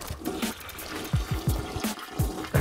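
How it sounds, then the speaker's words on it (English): Pond water being drawn down by a pump, a close, steady gurgling and sloshing flow with repeated low glugging surges, like water filling or draining. "So now we're just gonna start drawing the water down."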